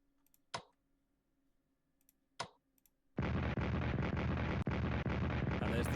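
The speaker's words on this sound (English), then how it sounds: "And there's the defense artillery." Defensive artillery in the Strategic Command WWII: World at War 1941 strategy game fires with two sharp separate booms, then a long dense rumbling barrage of explosions with one more distinct blast.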